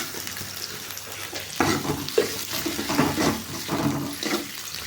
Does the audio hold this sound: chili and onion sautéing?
yes